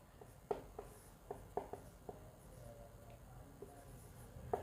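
A pen or marker writes extra lines on a geometry figure, giving a quiet series of short, sharp scratching strokes and taps at an uneven rhythm, close and faint, with no talk.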